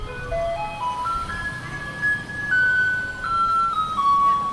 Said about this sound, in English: In Taipei, the capital of Taiwan, the trucks also play this song.